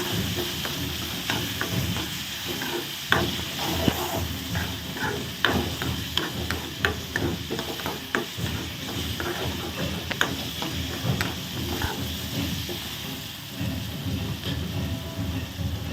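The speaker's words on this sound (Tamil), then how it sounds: "வெங்காயம் வந்து நல்லா வதங்கட்டும்" Onions sautéing in a pan for a bread evening snack, a steady broad sizzle with frequent sharp scraping and tapping of a spoon stirring, close and fairly loud throughout with no talk.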